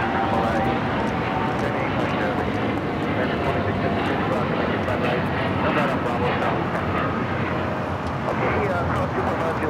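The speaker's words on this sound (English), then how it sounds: "This is United Airlines 1855 taking off to Newark on the 787-10 Dreamliner" A United Airlines Boeing 787-10 Dreamliner taking off from Los Angeles airport gives a loud, continuous jet rumble and roar, with people talking throughout.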